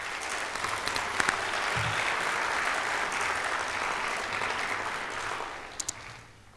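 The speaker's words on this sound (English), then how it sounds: "would you please give them a round of applause?" An audience at a Hall of Fame induction ceremony applauds, a broad, sustained roar of many hands from a large crowd, steady and moderately loud before tapering off, with a few scattered louder claps.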